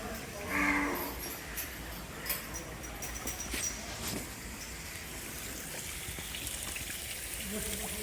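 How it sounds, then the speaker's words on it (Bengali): A cow lows once, fairly close, in a crossbred dairy farm shed with cows and calves, over a steady background hiss and faint trickling, with occasional quiet knocks. "এই যে এখানে গাবি গরু তারপর অপোজিটে আছে বেবি গরুর বাছুর রাখা আছে"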